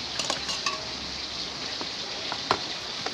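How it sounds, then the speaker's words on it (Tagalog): Food fries quietly in a home-kitchen pan, a soft steady sizzle with scattered clinks and scrapes of a utensil against the pan, the louder knock coming near the end. "Meron pa tayo ito piniprito"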